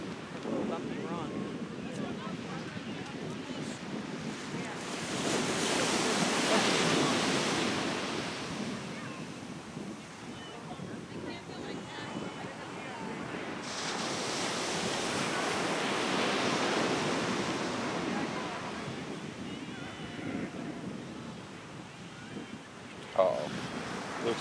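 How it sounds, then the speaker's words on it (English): Ocean waves break and surge on the shore in two long, rolling swells, with a roar of surf under gusts of wind buffeting the microphone. "There comes a big wave."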